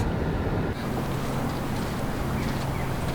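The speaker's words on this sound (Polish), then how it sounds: "Lubię pracę motoru silnika, jak nabiera obrotów." A boat engine on the Warta river at Sieradz drones steadily and revs up beneath heavy wind rush and water noise, loud and continuous throughout, with no voices.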